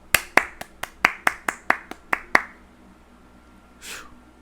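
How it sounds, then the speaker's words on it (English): About ten crisp, evenly spaced claps ring out close by in a fast steady rhythm, then stop. A short breathy exhale follows after a pause. "Clap it up one more time."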